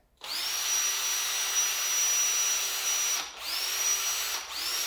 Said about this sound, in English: So let's spin it up and just see how long it would take to get it to actually hear the metal ball inside.